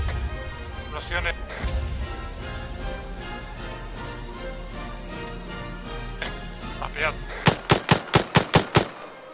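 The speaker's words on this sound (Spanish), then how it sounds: "Explosiones." Rapid bursts of automatic gunfire and sharp explosions in the video game ArmA 3 over a dense, rumbling game soundtrack, ending in a loud string of evenly spaced shots.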